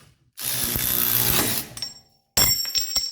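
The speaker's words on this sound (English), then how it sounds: "So when I tighten this, it's going to clamp down and it's going to pop loose." A power tool whirs for about a second while tightening on the tie rod end of a 1985 Surf Wagon's front steering. After a short pause comes a sharp metallic pop and clatter as the joint breaks loose.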